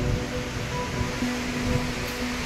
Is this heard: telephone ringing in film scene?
no